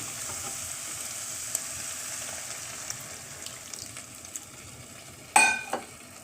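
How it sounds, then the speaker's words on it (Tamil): Coconut milk stirred into a pot of bread brinji rice, the mixture sizzling and frying steadily at a low level with a few faint clinks, then a sharper splash and clatter near the end. "கிளறி விட்டுட்டு தேங்காய் பாலையும் சேர்த்துருவோம்."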